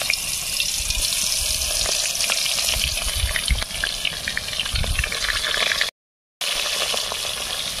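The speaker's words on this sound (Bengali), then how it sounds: "তেলটা গরম হয়ে গেছে এবার তেলের উপরে আমি মাছগুলো দিয়ে দেবো" Koi fish dropped into hot oil for traditional Bengali tel koi, frying with a steady loud crackling sizzle that runs throughout, with brief bursts of bubbling and a short gap of silence near the end.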